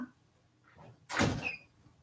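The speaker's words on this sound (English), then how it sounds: "Let me go open the door because they're going to tear it down and make a mess." A door is pulled open indoors with a short, sharp scrape and clunk after a quiet pause, followed by a faint squeak as it swings.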